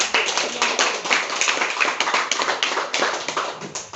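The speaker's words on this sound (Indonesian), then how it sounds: "Kita beri tepuk tangan yang meriah" An audience at a school debate competition claps enthusiastically, close, crisp and rhythmic hand claps that keep going for several seconds with no talking.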